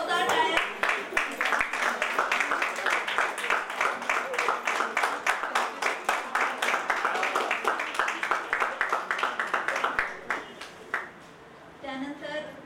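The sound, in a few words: loud applause at a reunion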